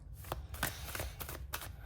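Tarot cards shuffled by hand before a single card is pulled for a daily reading, a close, papery riffling with several quick bursts over a low background hum.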